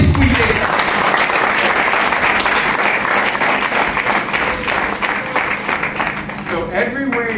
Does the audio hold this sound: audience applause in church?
yes